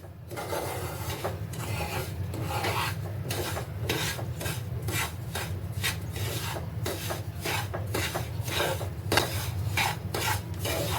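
Semolina being stirred and roasted in a pan for amrut pak barfi makes a steady, continuous dry scraping and rasping, with repeated rhythmic strokes throughout, close and fairly loud with no talking.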